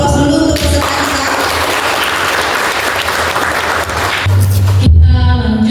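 Audience at a quiz competition final giving loud, sustained applause for the contestants, dense clapping filling the room over a musical sting, which cuts off abruptly near the end.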